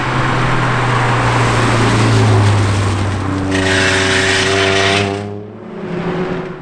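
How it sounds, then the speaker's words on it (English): A race car with a sick, rough-running engine passes close by at a circuit race, loud and strained, its pitch falling as it goes past before fading, then a second engine swells briefly at the end. "his car sounds very sick as it passes one of our cameras"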